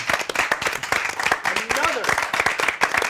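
A small audience applauds a music-industry panel discussion, sharp individual claps standing out in a loose, moderately sized round, with a voice speaking over part of it.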